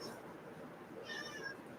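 A cat gives a single soft, faint meow midway through a quiet stretch of room tone.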